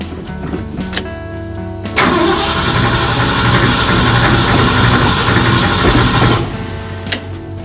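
A carbureted car engine with a leaking accelerator pump cranks after a few clicks and catches, then runs loud and close at a rough, steady idle for about four seconds before cutting off, with a final knock.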